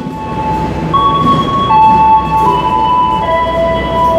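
Jayabaya economy-class passenger train hauled by locomotive CC 20617, heard from inside the rearmost economy car: a steady loud rumble of rolling wheels with sustained high squealing tones drifting in pitch, continuous throughout.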